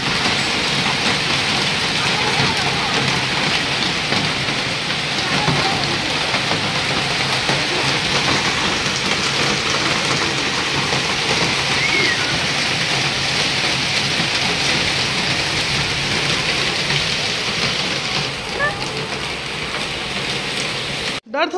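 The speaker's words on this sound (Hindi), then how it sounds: "देखु केना वर्षा होला" Steady rain falls throughout, a dense continuous hiss with a faint patter of drops, loud and close, with no voices heard.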